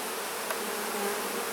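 A steady swarm-like hum of honey bees on a hive frame during a mite count, close and unbroken, with a faint tap partway through.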